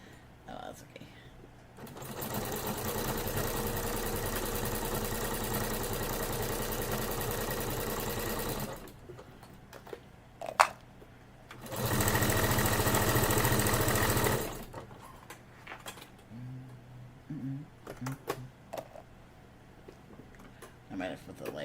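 Sewing machine stitching fabric in a home craft area, with two long steady runs of rapid mechanical whirring, separated by pauses with handling noises and a voice speaking.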